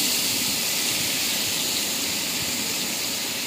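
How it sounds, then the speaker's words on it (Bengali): Pieces of hilsa fish fry in hot oil seasoned with black cumin, giving a steady, loud broadband hiss that holds evenly from start to finish with no talking. "গরম হয়ে যাওয়ার পরেই এই যে ইলিশ মাছগুলো দেওয়া হলো,"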